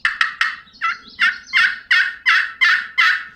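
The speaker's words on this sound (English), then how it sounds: "I also got an aluminum call, and it just sounds, it's a little bit higher pitched" An aluminum pot turkey call gives a higher-pitched run of about ten sharp, evenly spaced yelps, loud and close with nothing else behind them.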